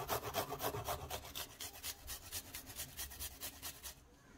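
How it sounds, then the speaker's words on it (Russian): Cheese grated on a coarse kitchen grater, a steady run of rhythmic rasping strokes at close range, about a dozen quick passes that stop near the end, with no talking. "Сюда же на крупной терке я натираю сыр."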